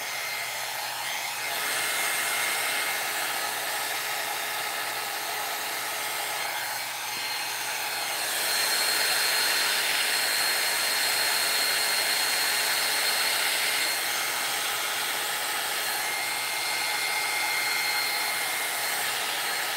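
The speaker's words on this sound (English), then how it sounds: "Heat gun is taking too long." A heat gun blows a steady, loud rushing stream of hot air over glitter resin inside a geode, swelling slightly louder midway and running continuously with no talk.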